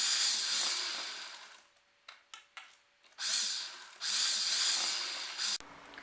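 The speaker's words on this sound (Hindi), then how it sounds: "अब हम इसको आगे और पीछे दोनों तरफ से खींचते हुए सिलाई लगाएंगे।" A sewing machine stitches elastic onto a baby pyjama in two longer whirring runs with a few short stop-start bursts between them, heard up close.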